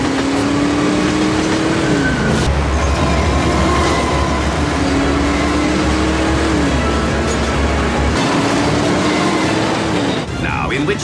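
A train rumbles past loudly and steadily, with a low drone, rising tonal whines and a faint metallic clatter toward the end.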